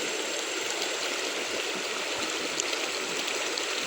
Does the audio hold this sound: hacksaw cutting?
no